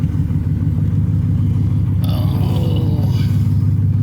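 LS10 engine in a vehicle on a test drive, a loud continuous low rumble that climbs in pitch partway through as it revs, with a light clatter over the top.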